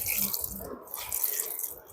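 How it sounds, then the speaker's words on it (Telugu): Half a glass of water pours into oil for mango pickle, a close, steady splashing gush lasting a couple of seconds at moderate volume. "ఈ ఆయిల్ దాంట్లో ఒక హాఫ్ గ్లాస్ వాటర్ పోసిన."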